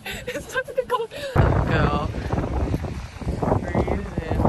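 Strong wind at a beach buffets the microphone in heavy, irregular gusts, a loud roaring rumble following a short stretch of talk.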